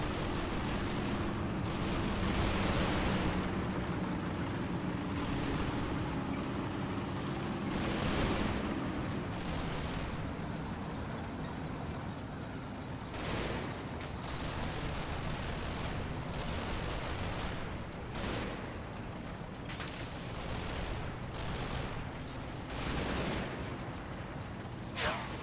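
Sustained battle gunfire from a war video game rattles nonstop, with machine-gun bursts and heavier booming shots layered over a constant din, fairly distant and steady throughout.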